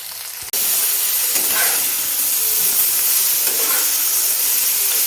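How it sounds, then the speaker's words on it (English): Brinjal pieces hit hot mustard oil with turmeric powder and salt in a frying pan, setting off a sudden loud sizzle that continues as a steady hissing fry with faint stirring scrapes. "Now give the brinjal and turmeric powder and salt in it."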